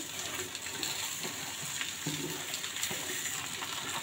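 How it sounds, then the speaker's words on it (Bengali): Basmati rice tipped into a frying pan of beef and fried potatoes for tehari, sizzling steadily with scraping stirring sounds, near and fairly loud, with no speech. "এখন আমরা এটাতে দিয়ে নিব চাউল, পোলাওয়ের চাউল দিয়ে নিচ্ছি।"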